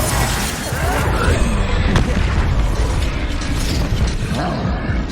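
Bombarda blasting spell going off in Hogwarts Legacy, a dense rumbling burst with mechanical clatter and crackle, loud and sustained over the whole stretch, with a faint voice in the mix.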